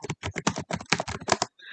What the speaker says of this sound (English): click on enter on your keyboard